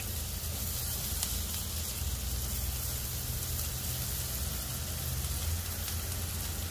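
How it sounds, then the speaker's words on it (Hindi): Finely chopped onion softening in a pan for a mixed vegetable soup, giving a continuous even hiss of frying that stays steady and close throughout, with no speech. "और इसे भी हम हल्का सॉफ्ट होने तक भून लेंगे"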